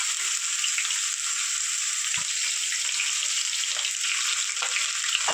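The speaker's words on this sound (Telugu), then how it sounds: "2 ఉల్లిపాయలు, 4 పచ్చిమిరపకాయలు కొంచెం బాగా గోల్డెన్ కలర్ వచ్చేది ఫ్రై చేద్దాం" Onions and green chillies frying steadily in a pan, a continuous close, bright sizzle with faint stirring clicks and no voices.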